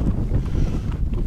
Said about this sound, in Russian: Тут просто ужасный ветер стоит